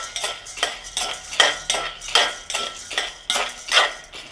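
Corn kernels dry-roasting in a pan for corn puffs, stirred constantly so a spoon scrapes and clinks against the metal in a quick, regular rhythm, loud and close with no talk.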